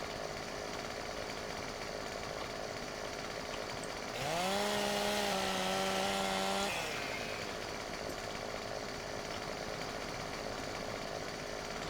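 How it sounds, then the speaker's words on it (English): In Farming Simulator 17, a chainsaw cuts into timber with a steady, droning buzz for about two and a half seconds. The cut stands out against a continuous hiss of outdoor ambience before and after. "Wow, that actually looked like the chainsaw connected that time."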